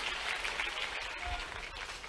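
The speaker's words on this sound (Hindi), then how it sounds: "ये किसान बेटी के लिए जोरदार ताली बजा" An audience at a farm innovation dialogue event in Bhopal claps for a farmer's daughter, a steady, dense wash of applause from a crowd, moderately loud and sustained for a couple of seconds.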